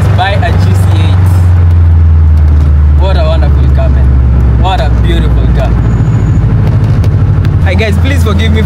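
Subaru GC8 engine under way, a loud, constant low drone filling the cabin, with someone talking excitedly over it in several bursts.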